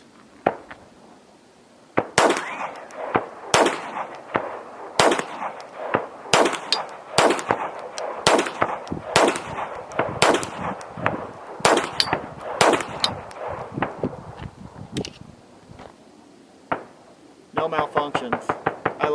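Sharp .22 pistol shots firing CCI pink coated rounds, a dozen or so loud cracks spaced at an even pace, then a faster cluster of clicks and clatter at the end.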